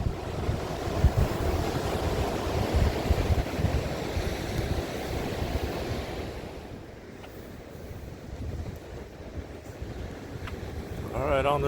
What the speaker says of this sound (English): Pretty mean waves out there.